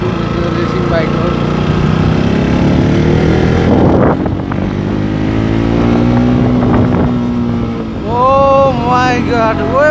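A racing motorbike on a ride from Khanigaun Tanki to Mudkuwa hums with a steady engine drone under wind buffeting, a swell in revs midway, and voices talking near the end.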